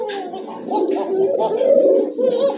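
Red Rajgolla pigeons coo close by in soft, throaty, overlapping rolling calls, continuous across the short stretch without speech.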